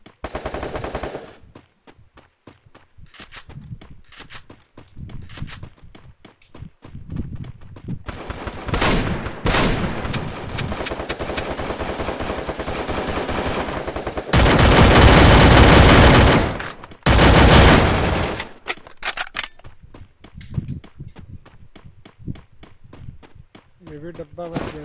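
Loud automatic gunfire from a shooting video game comes in long rapid bursts, with a sustained heavy volley near the middle, while a player talks over the action between shots.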